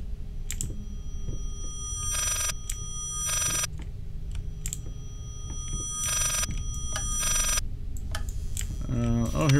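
An old-style telephone in the horror video game Layers of Fear rings in loud, bright bursts, paired rings separated by pauses, over a quiet ticking, low-rumbling background.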